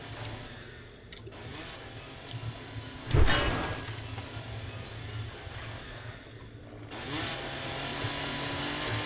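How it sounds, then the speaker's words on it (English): In the video game 7 Days to Die, a chainsaw runs as a steady buzzing drone throughout, with one brief louder surge partway through and a few sharp clicks. "Of course, she's using a chainsaw on the whole thing too."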